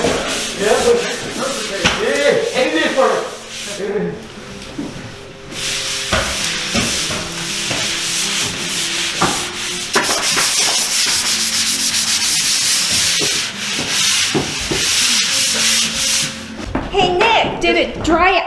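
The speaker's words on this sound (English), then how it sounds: "It dried out so nice. Perfect, easy to sand." Sanding dried drywall texture during house construction, a continuous close rasping scrape with rhythmic strokes, under people talking.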